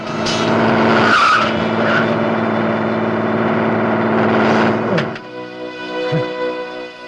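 In a film scene, a car loses its brakes, its engine roars loudly and tires squeal as it skids, and then it drops to a quieter idle.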